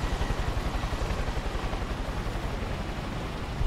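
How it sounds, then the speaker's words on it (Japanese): A helicopter in the video game Far Cry 5 gives off a steady, dense rotor roar with rapid rhythmic chopping pulses, loud and continuous with no talking. "あのヘリは落っこちます。"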